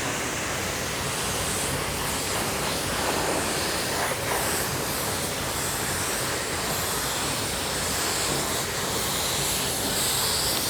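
A paint spray gun at 26 PSI laying wet-on-wet coats of pearl white onto a car panel, giving a continuous, loud hiss of air and spray with no breaks.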